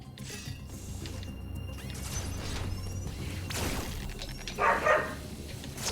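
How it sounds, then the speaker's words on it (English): Several dogs barking indoors in a room, scattered yips and barks at moderate distance blended with game sounds and mechanical clatter, with no talking. "Sorry if you can hear my dogs."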